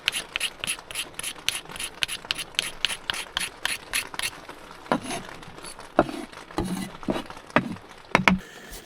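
Resinous fatwood sticks are scraped into shavings with a blade in a fast run of rhythmic, close, ratchety scrapes, then slower and more irregular strokes with a few knocks toward the end, with no talk.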